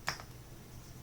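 A single Enter key press on a computer keyboard, one crisp close click that stands alone in a quiet room.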